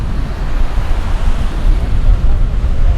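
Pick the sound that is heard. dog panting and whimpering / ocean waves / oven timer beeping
ocean waves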